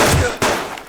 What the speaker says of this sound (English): Okay, let's get out the pistol.